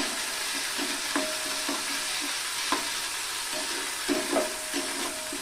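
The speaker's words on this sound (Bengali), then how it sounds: "পেঁয়াজ আদা রসুনটাকে একটু কষিয়ে নিতে হবে" Onion, ginger and garlic paste fry gently on low heat in a pan for a crab curry, a steady soft sizzle broken by repeated scraping stirs and light spatula taps, close by with no talk.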